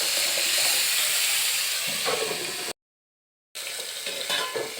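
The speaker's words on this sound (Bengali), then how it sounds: "কুমড়োটা নাড়াচাড়া করে ঢাকা দিয়ে একটু ভাজা ভাজা করে নিতে হবে" Pumpkin pieces fry and get stirred in a pan on a gas stove for a Bengali shrimp-and-pumpkin ghonto, a steady hissing sizzle with scraping stirs, cutting out briefly to silence before the frying resumes.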